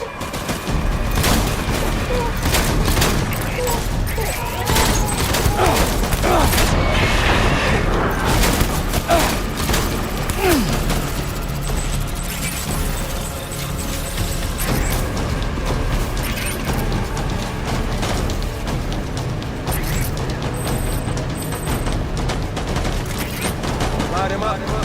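Heavy gunfire in the Death Stranding video game on very hard difficulty, a loud, relentless fusillade of shots, clanks and booms that never lets up, with voices mixed in the din.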